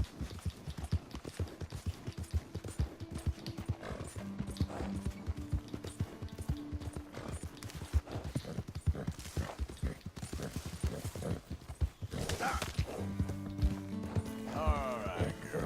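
A horse in Red Dead Redemption 2 clops along with steady repeated hoofbeats, mixed with game music, ambience and someone talking over it.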